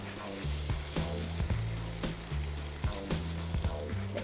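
Crayfish sizzle and fry in a hot pan for pil pil, a steady close crackle with a low rumble and repeated stirring or scraping clatters at regular intervals.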